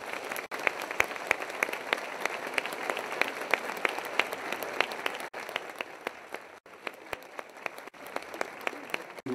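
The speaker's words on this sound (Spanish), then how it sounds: "ruego un fuerte aplauso de todo el pueblo colombiano" Crowd applause honouring visiting cardinals at a large outdoor Mass in Colombia, a sustained wash of many hands clapping at a distance, with a few brief dips, no one speaking over it.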